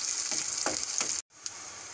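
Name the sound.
frying chopped green chilli with onions for Maggi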